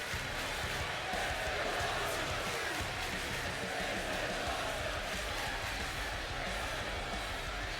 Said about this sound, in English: We're getting a "This is awesome" chant from the crowd as we're going through the replays here.